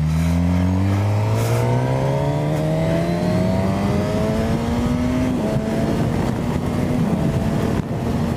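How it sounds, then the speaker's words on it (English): A 2018 Suzuki GSX-S1000 motorcycle accelerates hard on an open road, its engine note climbing steadily, then dipping briefly through a gear change before pulling again, loud and close over heavy wind rush. "Lovely gear change."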